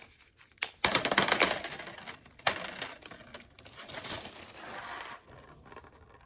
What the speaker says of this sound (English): you can hear that sound? They're rattling in there. They're drying off.